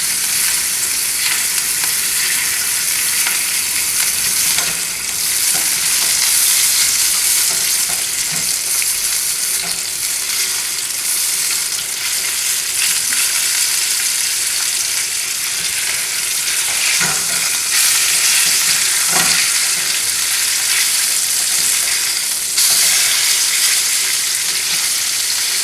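A sous vide pork tenderloin sears in a hot pan on high heat, giving a loud, steady sizzle throughout with occasional crackles and pops.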